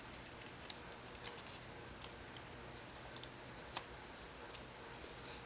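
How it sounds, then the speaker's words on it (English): Fabric scissors snip around a felt gingerbread man template, giving quiet, irregular clicks and short crisp cuts close by against a faint hiss, with no talking. "grab your good fabric scissors and go ahead and cut around this gingerbread man template that we've made"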